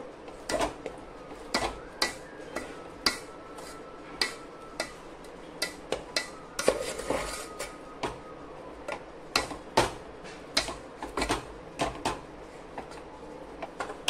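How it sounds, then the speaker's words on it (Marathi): A spoon scraping and clinking against a cooking pot while gram flour is quickly stirred into a spicy Saoji patvadi rassa curry, with steady repeated taps and scrapes and no talk. "झटपट बेसन टाकायचं आणि झटपट आपल्याला एकजीव करायचं आहे, नाहीतर आपल्या गुठळ्या पडतात."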